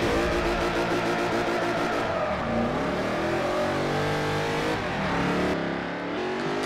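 A naturally aspirated 6.8-litre V8 race car in Forza Horizon 5 launches off the line, its loud engine revving hard and climbing through gear changes, close and continuous with no talk.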